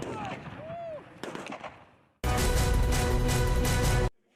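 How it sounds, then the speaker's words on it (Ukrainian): Gunfire from a pistol and an underbarrel grenade launcher: a few sharp cracks early on, then a dense, loud burst of rapid firing lasting about two seconds before cutting off abruptly, with brief voices in the background. "Також стріляють з пістолета та підствольного гранатомета."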